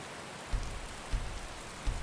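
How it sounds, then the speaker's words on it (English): Steady video game rain hisses as a dense, even patter over the whole stretch, with soft low thumps recurring roughly every half second beneath it. "And of course it's raining."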